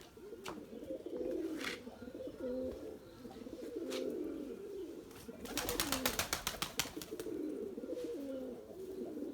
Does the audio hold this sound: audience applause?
no